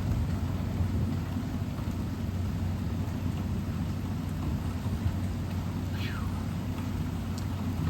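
An August thunderstorm brings steady heavy rain with a low, continuous thunder rumble throughout, a faint distant crackle near the end, and no talking.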